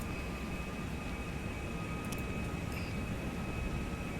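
Airliner jet engines roar at takeoff thrust in a flight simulator, a loud, steady broadband rush with a thin high whine and no voices.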